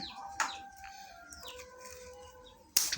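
A fighting rooster clucks in short, bright calls while its wing feathers are being trimmed. The calls are close and fairly clear, with a sharp rustle or flap at the start and another near the end.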